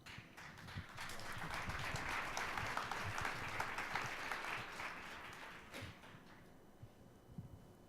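Audience applause at a teacher and principal panel, a sustained round of clapping that swells quickly, holds for several seconds, then thins out near the end with a few scattered claps.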